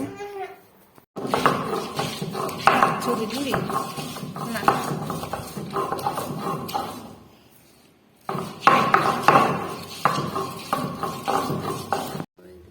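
Ginger, garlic and sun-dried cumin being ground into a paste by hand, a steady rhythmic scraping and knocking that runs for several seconds, stops briefly, then resumes, with a voice talking at points.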